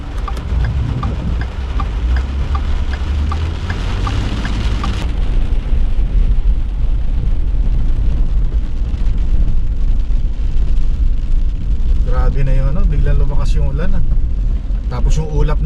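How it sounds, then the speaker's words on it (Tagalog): Heavy rain pours steadily outdoors in Edmonton, Alberta, Canada, a dense, loud hiss that continues throughout, with people talking over it near the end. "Lalo na lumakas ang ulan, no?"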